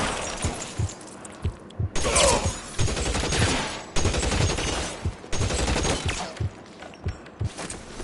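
Rapid bursts of gunfire in an L.A. Noire shootout on PS5: loud, close volleys of shots in dense clusters with brief gaps, crackling almost continuously across the stretch.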